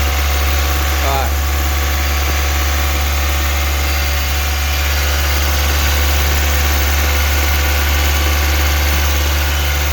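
A steady car engine idles at close range, a constant low rumble running throughout with no change in pace.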